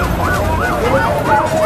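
An ambulance siren wails in a rising and falling pattern as the vehicle pushes through a crowd at a public gathering, sounding close and loud over a steady rumble of crowd and traffic noise.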